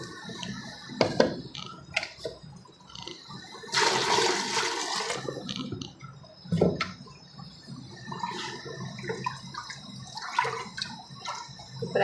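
Water splashes and gurgles into a metal pot of fried daal in a short burst, with scattered clinks and small clatters of cookware around it.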